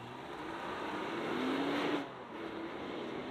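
A 2023 Nissan Pathfinder seven-seat SUV accelerates hard, heard from inside the cabin as a steady engine roar with rising wind and road noise, easing briefly near the end as the gear shifts before pulling on.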